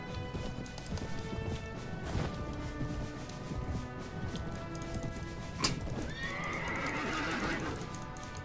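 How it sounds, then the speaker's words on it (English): Cavalry horses charge in the medieval battle game Mount and Blade Warband, with rapid clip-clopping hooves, several sharp neighs and whinnies, and a crash amid a busy battlefield din. "Looks like they're charging us with their cavalry."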